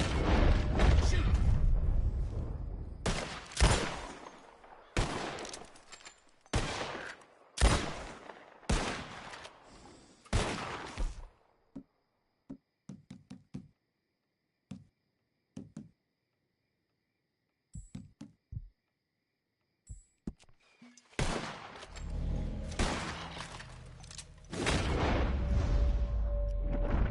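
Rapid volleys of gunfire in the video game Red Dead Redemption 2, loud cracking shots in bursts, then sparse scattered shots during a quieter stretch before heavy firing resumes; talking is heard in between.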